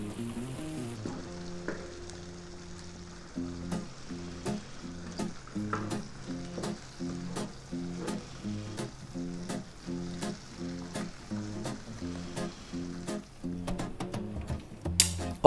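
Baked beans and Philadelphia cream cheese sizzle softly in a pan as they are stirred. A spoon scrapes in a steady repeated rhythm through the whole stretch at low, close volume, with no talking.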